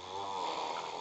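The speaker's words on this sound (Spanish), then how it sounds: "Y tú no roncas, mamá ñema, ¿eh?" A person snoring, one steady rasping breath sounding close and fairly quiet, with no talk over it.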